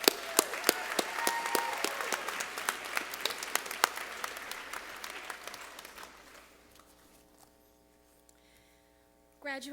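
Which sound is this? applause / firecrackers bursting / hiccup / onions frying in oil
applause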